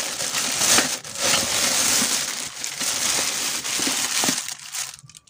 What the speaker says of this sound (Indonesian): kali ini saya mau unboxing kantong kresek hitam